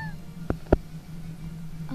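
A cat gives a couple of brief, clipped meows close by, heard against a steady low hum, with a faint third cry near the end.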